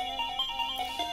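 Chiptune music from a Sega Game Gear handheld played at maximum volume, bright square-wave tones in a steady stepping melody, loud and close with no talking.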